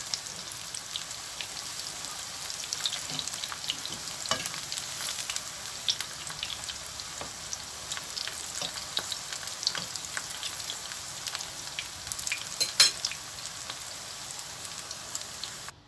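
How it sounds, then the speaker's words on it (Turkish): Steady crackling sizzle of peppers frying in hot oil, with scattered louder pops, continuous and close. "Şimdi biberlerimi kızartıyorum arkadaşlar."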